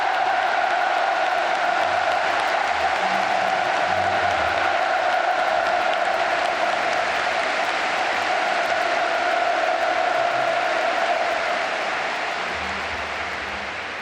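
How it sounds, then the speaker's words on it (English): A large crowd in Pyongyang applauds in a steady, sustained roar of clapping, heard from a distance and fading slightly toward the end, with a faint tonal hum underneath. "let us give him another big round of applause to President Moon Jae-in."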